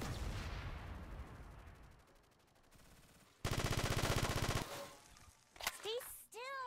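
Rapid bursts of automatic gunfire from a shooter video game, a dense rattling volley in the middle, loud and close, with other game sounds before and after and no speech.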